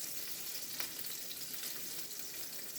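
Salmon fillet frying skin-down in oil in a pan, a steady close sizzle and crackle running throughout with no voices.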